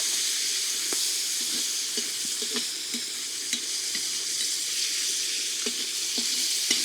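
Eggplant and meat sizzle and fry steadily in a kazan, a dense continuous hiss with occasional stirring clinks and scrapes, close and fairly loud, with no talking.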